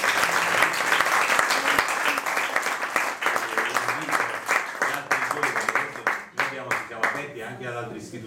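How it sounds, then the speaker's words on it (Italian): An audience gives a final round of applause for Benedetto at the close of a lecture on Kant and quantum physics, with sustained dense clapping that stays steady before thinning into a few scattered claps near the end. "facciamo l'ultimo applauso a Benedetto."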